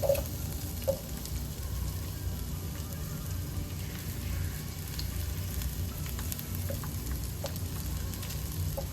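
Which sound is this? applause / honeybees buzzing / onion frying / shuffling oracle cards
onion frying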